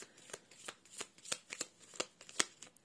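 Tarot cards being shuffled and handled up close, a steady series of crisp riffling flicks and snaps arriving several times per second, fairly loud, with no talking.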